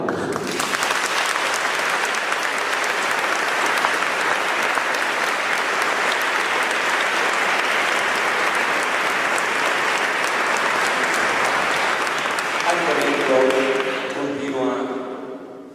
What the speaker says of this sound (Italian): Per Antonello e per Aldo un bel applauso.